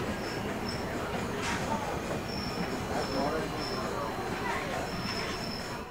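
A local train running between Sealdah and Barasat, rumbling steadily with wheel and rail noise, faint intermittent high squeals and some clatter, loud and continuous throughout.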